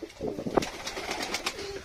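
An adult pigeon on a rooftop coos in a few soft, throaty bursts, close by, over light background noise with no talking.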